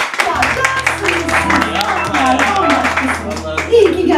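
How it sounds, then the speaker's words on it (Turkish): A crowd claps and applauds loudly and steadily throughout, with people talking over the clapping. "Alkışlayalım."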